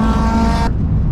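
A car on a trackday at Mondello Park race circuit accelerates hard, its engine note loud and close, then cut short abruptly partway through.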